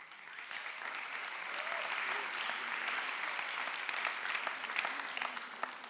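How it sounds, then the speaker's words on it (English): An audience at a communication-skills talk applauds itself, a steady, sustained wash of many hands clapping with scattered sharper claps, fairly distant and even throughout. "applaud yourself for being here today"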